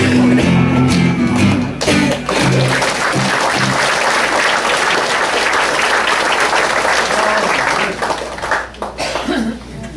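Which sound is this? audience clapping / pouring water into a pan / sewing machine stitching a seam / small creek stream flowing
audience clapping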